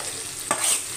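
Chana dal and potato curry sizzles in a pan, and a single quick stir or scrape of a spoon sounds partway through the steady frying hiss.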